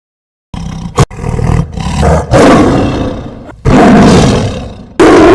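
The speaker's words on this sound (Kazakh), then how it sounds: "Жолбарыс." A tiger roars loudly and close in long, rasping, overlapping bursts with brief breaths between them, filling several seconds without talk.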